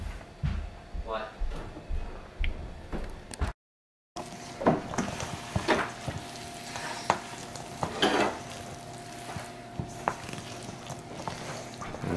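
A casserole mixture with fresh bread is stirred in a pan, giving repeated soft scrapes and spoon clicks against the pot, with voices talking nearby throughout.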